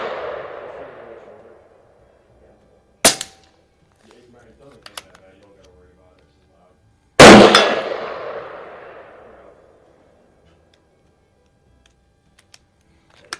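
Umarex Iconix airgun with a Buck Rail collet suppressor firing at metal targets on a range, giving two loud sharp cracks with ringing tails several seconds apart, plus a few faint ticks and light talk between them.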